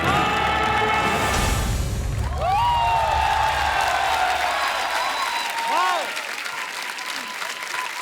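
An audience at a stage show gives hearty applause for the performers, with cheering and a host's amplified voice over the clapping, which thins out toward the end.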